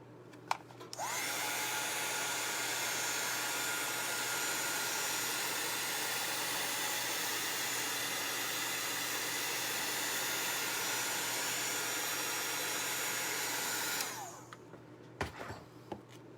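A handheld dryer blows on chalk paste over a stencil for a Chalk Couture project, a loud, steady, whooshing whir held for about thirteen seconds, with a few faint clicks before it starts and after it cuts off.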